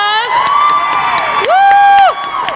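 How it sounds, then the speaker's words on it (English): An audience at a pops concert greets seniors coming on stage. High voices shout and whoop in long sustained bursts, loud and close, blending into crowd cheering. "Let's give them a round of applause."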